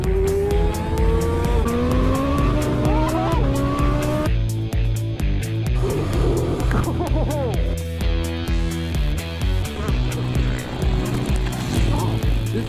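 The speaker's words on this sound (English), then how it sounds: "This is power level one," Energica Ribelle electric motorcycle pulling away at full power, a loud, rising electric motor whine with strong wind roar and tonal sweeps that climb steadily, then continue in a busy, sustained high-speed drone.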